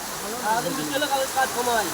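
Heavy rain falls in a village as a constant dense hiss, with a person talking over it.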